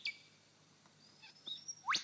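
A lyrebird imitates a crescent honeyeater's call: a few quick, thin chirps that end in a brighter rising whistle, all fairly faint and close together.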